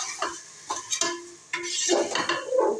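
A spoon stirs salted fish curry in a metal pot, scraping and clinking against the sides in short bursts, with a soft sizzle from the cooking tomatoes beneath.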